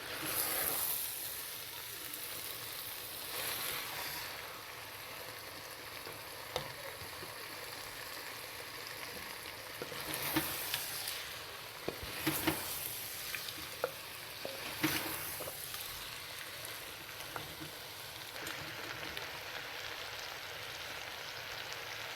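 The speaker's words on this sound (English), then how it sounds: "And we're mixing gently" Gobi keema sizzles softly in a pan while it is gently mixed, giving a faint, continuous crackle with scattered light scrapes and clicks from the stirring.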